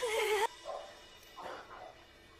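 A small dog whimpers and yips softly, a few brief high whines spread over a quiet indoor scene, fairly faint and alone.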